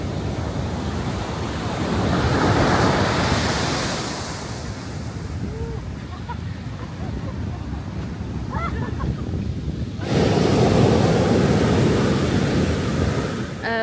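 Ocean waves breaking on the Portuguese coast near a lighthouse, a continuous loud roar of surf swelling and easing, with wind buffeting the microphone.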